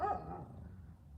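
A big, tough dog barks once, close and fairly loud, with the sound fading into a brief tail and no talking over it.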